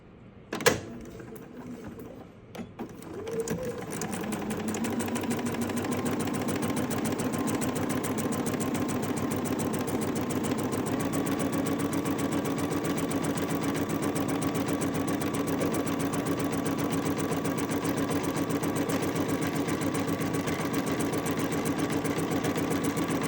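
A domestic sewing machine stitches a quilt block piece, starting with a brief thump and then running in a steady, continuous whir for about twenty seconds with no talking.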